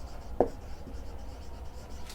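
Pen or chalk scratches across a board during a physics class, a faint, soft scraping stroke with one brief tap against a quiet room hum.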